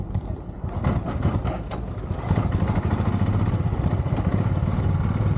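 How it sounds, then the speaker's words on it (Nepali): A motorcycle engine rumbles steadily and close as the bike climbs a high mountain pass on a Manali to Leh ride in Ladakh, with some clatter at the start and no talking. "अब हामी चाहिँ बाइक लिएर यहाँबाट माथि लाग्दैछौँ"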